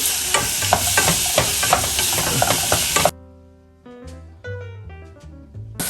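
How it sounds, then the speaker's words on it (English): Lobster dipping sauce is stirred in a hot pan before cream is added, a loud close sizzle with scraping for about three seconds that then cuts off abruptly, followed by music. "We're gonna continue stirring this for about a minute"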